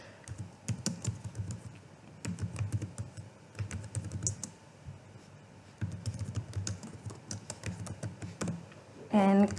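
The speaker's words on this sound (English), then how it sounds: "we just type in top productivity tools in" Quick bursts of close typing on a computer keyboard as a prompt is entered into an Excel spreadsheet, with clicky key taps in uneven runs and short pauses between them.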